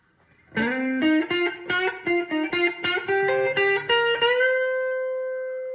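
Clean Epiphone Uptown Kat electric guitar on the neck pickup only plays a short melodic phrase of plucked notes with a warm, rounded tone, ending on a sustained ringing note.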